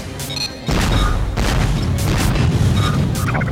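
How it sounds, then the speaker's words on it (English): Missile shots from Samus in a Super Smash Bros. match crack out as a dense run of booming pops and bursts, loud and close, one after another with no talk over them. "Popping off those missiles. These missiles kind of do work."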